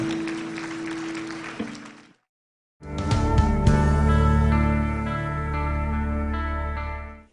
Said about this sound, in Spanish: Dale fuerte esas palmas a nuestro Dios.